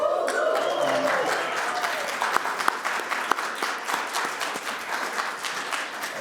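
A church congregation gives a round of applause for a pianist, a full burst of clapping that starts with a voice briefly overlapping and then continues alone, gradually thinning toward the end.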